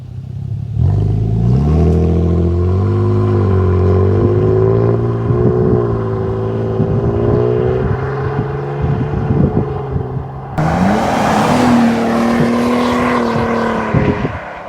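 A 2024 Toyota Tundra fitted with a slip-on exhaust accelerating hard outdoors, a loud, close exhaust roar climbing through gears with rising tones, a brief dip then another surge, with wind buffeting the microphone.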